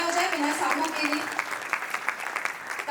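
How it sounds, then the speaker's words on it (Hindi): An audience at a stage play claps loudly for a cast member being introduced, a dense steady burst of applause lasting a few seconds, with a presenter's voice over it. "एक बार जोरदार तालियां हो जाए विनय साहू के लिए"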